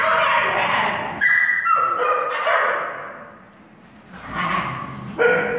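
Young dogs at the Sooam Biotech Research Institute yipping, barking and whimpering as they play, close and lively with short bursts and a brief lull, with people's voices faintly mixed in.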